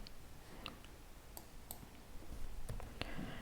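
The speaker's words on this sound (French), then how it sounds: "je vais simplement cliquer sur la poubelle pour faire disparaître le papier." Several sharp, sparse computer mouse clicks sound close by against a quiet background as a user works on a scrapbooking page layout, with no one talking.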